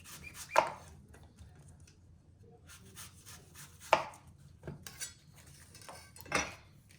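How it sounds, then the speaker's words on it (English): A knife cuts the end off a Granny Smith apple on a board: a few sharp, separate knocks against a quiet kitchen background, close and fairly soft. "Granny Smith apple. Going to cut the end off."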